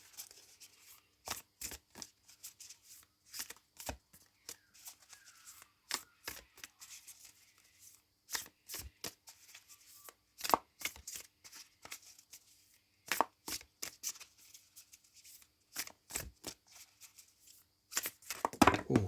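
Cards shuffled and laid out during a card reading, giving repeated crisp riffling snaps and short slaps in an irregular rhythm, close and fairly quiet, with no talking.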